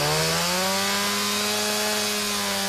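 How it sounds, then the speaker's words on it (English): A chainsaw cuts oak wood for a sculpture at a garden woodcarving exhibit, its engine droning loud and steady with a sustained buzzing whine throughout. "Chainsaws and chippers cut away as sculpture comes to life"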